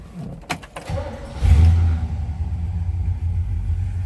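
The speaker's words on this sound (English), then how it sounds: "let's go ahead and start this thing up" A 1964 Chevrolet Chevelle Malibu SS is started: a jangle of keys, a short cranking, then the engine catches with a loud low rumble that settles into a steady, deep idle close by.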